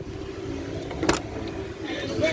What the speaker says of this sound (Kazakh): Машина жанып тұр кәдімгі.